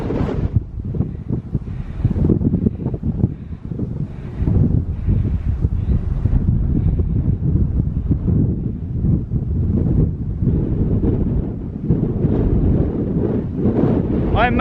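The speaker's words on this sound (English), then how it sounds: "The wind is just hitting me in the face and it's really strong." Strong wind batters the microphone on a stormy Scottish mountain, Stac Pollaidh, in a loud, continuous roaring rumble with gusty surges throughout, a voice faintly audible beneath it.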